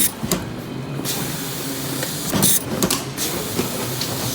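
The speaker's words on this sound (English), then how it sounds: "we'll come back over here and it will start printing again" A Zebra label printer on a mezzanine floor printing labels, giving a steady mechanical whir with hissing texture and brief louder bursts, heard alone at moderate level.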